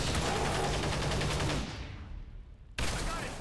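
A dense burst of rapid gunfire in XCOM 2, loud and close, cutting off into a brief decaying tail before a sharp final crack.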